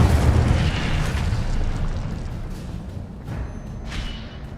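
Incendio fire spell cast in Hogwarts Legacy, a loud roaring burst of flame that rumbles on and slowly fades with a few crackling flares.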